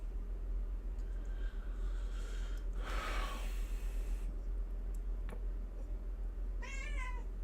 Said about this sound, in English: That's what you're hearing. You're hearing my kitty.